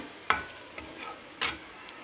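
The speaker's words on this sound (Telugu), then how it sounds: "ఒక పావు స్పూన్ కారం వేసుకుని ఇట్లా వేయించుకోవాలి" Quiet sizzle of chili powder frying in a pan, broken by a few sharp scrapes and clinks as a utensil stirs, with no voices.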